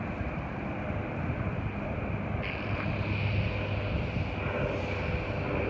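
An aircraft takes off near Darwin airport as a steady, broad engine roar with a rising whine partway through, distant and continuous with no talk.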